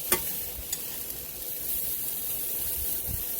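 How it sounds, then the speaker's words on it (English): Cooked vegetables being lifted out of a sizzling pan: a soft, steady hiss with a few brief utensil clicks and scrapes near the start, close but fairly quiet, no talking. "I'm getting his veggies out of the pan because they're done."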